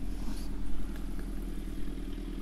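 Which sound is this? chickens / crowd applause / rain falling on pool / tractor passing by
tractor passing by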